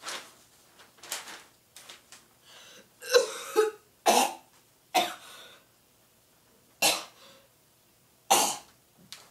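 A person imitates a man coughing into his newspaper with a series of sharp, separate coughs and throat-clearing bursts spaced irregularly, loud and close, with quiet gaps between.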